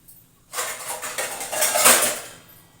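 Cooked green gram mashed in a metal pot, a short burst of scraping and clattering utensil strokes that swells and fades within a couple of seconds after a quiet start.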